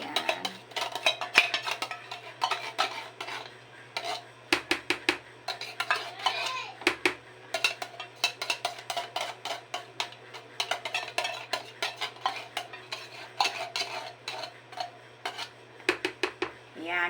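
A spoon scrapes and clinks against a bowl while buko (young coconut) salad is stirred, giving a steady run of close, irregular clattering taps throughout, with no talking.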